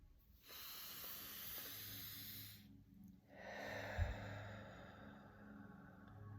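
Slow, soft breaths, a long airy exhale followed by a pause and then another steady breath, close and quiet, taken during a guided mindfulness exercise.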